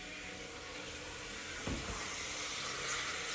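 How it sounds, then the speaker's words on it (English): Broccoli soup bubbling and sizzling in a pot, a dense steady hiss with a close popping burst midway. "Can you hear that? I hear it bubbling."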